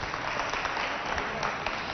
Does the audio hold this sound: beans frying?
no